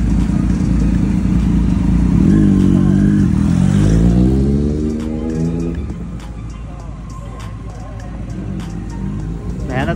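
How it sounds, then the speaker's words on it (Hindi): Silver Suzuki Hayabusa Gen 3 motorcycle engine close by, revving with a rising and falling roar for a few seconds, then settling into a lower, steadier idle rumble. "Silver Hayabusa gen 3।"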